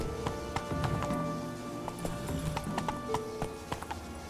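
Roach, Geralt's horse in The Witcher 3, gallops with rhythmic, distinct hoofbeats over a tonal game soundscape. A faint whinny sounds along the way.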